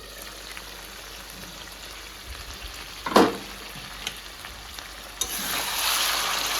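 Meat frying in a wok in a home kitchen, a steady sizzle with a sharp burst of stirring near the middle and a louder, brighter hiss toward the end.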